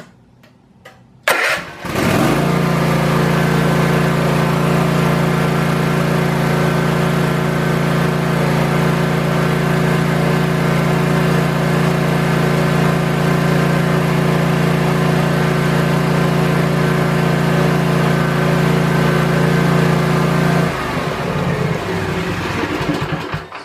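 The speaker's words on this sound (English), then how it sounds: "and then restart the engine" Small engine cranking and catching, then running loud and steady at wide open throttle with a constant droning hum for about twenty seconds before dropping off, close by with no talk.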